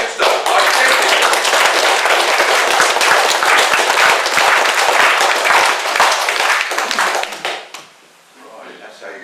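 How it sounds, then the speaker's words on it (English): An audience at a meeting breaks into loud, sustained applause, dense clapping filling the room for several seconds before quickly thinning out and fading to a few scattered claps at the end. "that's how you get a round of applause in this meeting"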